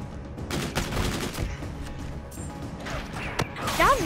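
Gunfire in the video game Call of Duty: Infinite Warfare, a steady dense stream of game combat sounds with sharp shot transients and a louder burst near the end.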